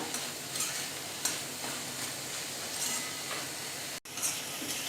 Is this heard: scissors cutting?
no